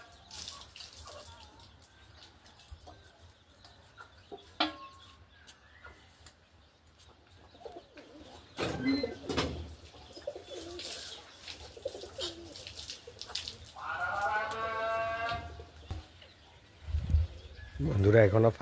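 A bird, apparently a pigeon or dove, calls with soft coos and clucks just outside a house, the calls scattered and moderately close, mixed with occasional household noises and some talk.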